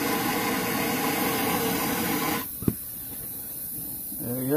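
A Coleman 413G camp stove lets out a steady broadband hiss of fuel as its valve is cracked open, loud for over two seconds, then dropping away after a short sharp click.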